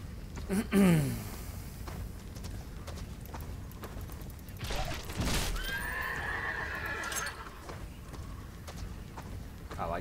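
Fire horses in the video game Sacred 2 neigh loudly with a sharp whinny near the start, then hooves clip-clop and further snorts and whinnies follow amid game effects.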